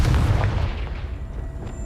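A Confringo spell explosion in Hogwarts Legacy gives one deep, booming blast at the start that quickly decays into a low rumbling tail.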